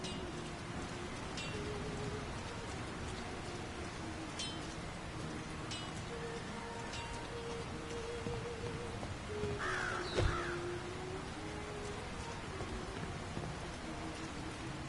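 Steady rain falls over the town of Bree, a continuous soft hiss throughout, with crows cawing now and then in the background.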